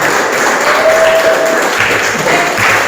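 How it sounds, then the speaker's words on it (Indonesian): A roomful of schoolchildren applauds a student group after its presentation, a continuous loud wash of clapping with no break, a faint voice briefly audible beneath. "Boleh tepuk tangan untuk kelompok"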